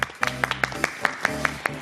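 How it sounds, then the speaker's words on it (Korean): A small group claps in a steady, even rhythm, a couple of seconds of close, crisp applause. "박수로 청할까요?"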